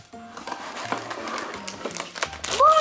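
Paper crackles and crinkles steadily for a few seconds as a gummy candy house kit is unwrapped, with brief tones and a light voice-like sound near the end.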